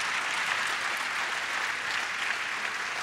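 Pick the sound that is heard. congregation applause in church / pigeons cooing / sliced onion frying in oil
congregation applause in church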